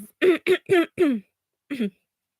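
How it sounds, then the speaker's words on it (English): A person clears their throat several times in quick rough bursts, then once more after a short pause, close and fairly loud. "Sorry, I'm clearing my throat."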